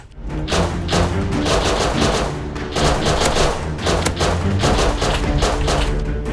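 Rapid, dense gunfire from the survival video game Rust, sustained volleys of overlapping shots with deep thumps underneath, loud and nearly continuous throughout with brief gaps between bursts.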